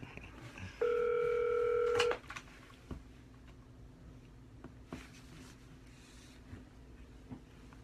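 Telephone dial tone during a cold call, a steady electronic tone lasting just over a second, followed by quiet room noise and faint clicks.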